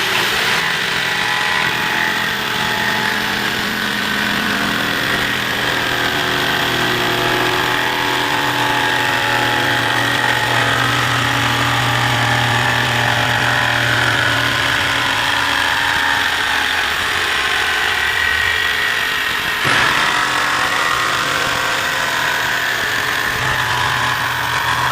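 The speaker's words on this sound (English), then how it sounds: "So I've got the trusty jigsaw, and what we're going to do is just cut out that section and then glue it to the frame." A jigsaw cuts a section out of wood for an engine load mover frame, buzzing loud and steady and close for the whole stretch with no talk over it.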